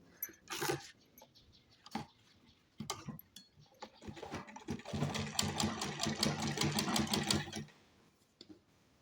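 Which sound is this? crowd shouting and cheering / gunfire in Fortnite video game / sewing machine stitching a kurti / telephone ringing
sewing machine stitching a kurti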